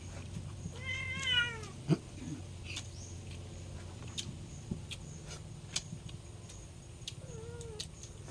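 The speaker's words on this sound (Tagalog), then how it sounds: "Nagugulat po yung pusa namin." A startled house cat on a farm gives a couple of short meows, moderately close, over low background hum, with faint clicks and rustles around them.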